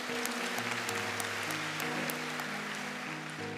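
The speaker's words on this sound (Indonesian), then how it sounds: "Tepuk tangan untuk rektor kita." An audience applauds the university rector at a formal ceremony. The clapping is fairly faint and steady, with a sustained tonal sound underneath and no speech.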